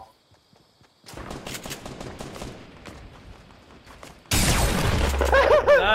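Rapid gunfire in the video game Fortnite crackles in dense bursts, starting moderately and growing much louder and heavier toward the end, with a short whistling tone near the close.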